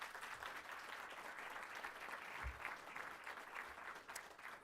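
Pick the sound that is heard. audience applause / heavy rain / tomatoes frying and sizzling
audience applause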